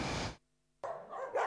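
Dogs bark at a crowded animal shelter in Cegléd, giving a few sharp barks close by, split by a short silent gap.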